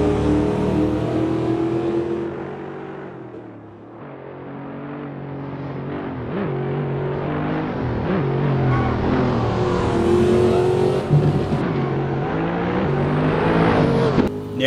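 A modded race car in Assetto Corsa accelerates hard down a straight, its engine revving up through the gears with rising and falling pitch, loud and close, with a brief dip on a shift partway through.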